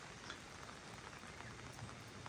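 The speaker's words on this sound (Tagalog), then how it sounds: "Kasi walang tigil ang ulan" Steady rain patters on a tent during car camping at River Ranch in Tanay, Rizal, a faint, even hiss of drops with no pause and no voices.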